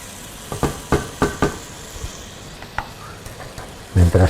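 Offal stew (capipota) being stirred in a pan, a series of sharp scraping and clinking strokes over a low simmer, spaced irregularly, ending in a few louder knocks.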